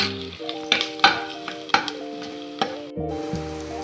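A spoon scrapes and knocks repeatedly against a pan as a masala mixture for mushroom biryani is stirred over a steady background sizzle, close and fairly quiet.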